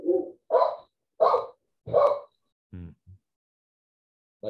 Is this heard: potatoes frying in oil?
no